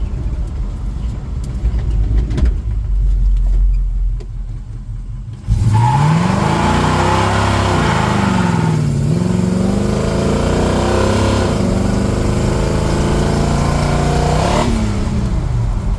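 A 1975 El Camino's engine roars and revs hard through a burnout attempt, loud and close, with rising and falling pitch sweeps as the throttle surges and the automatic shifts up; a quieter idle rumble precedes the sudden burst.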